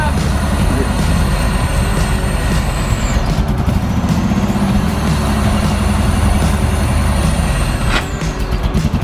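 A Ferrari Koenig kit car idles loudly and steadily close by, with a brief clunk as it goes into gear; people talk over it.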